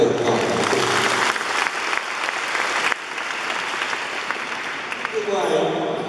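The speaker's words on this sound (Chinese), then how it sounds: "我们给他一个掌声" An audience at a Tainan city government event applauds the founder of Chimei Corporation, a steady, dense wash of clapping from many hands lasting several seconds with no talk.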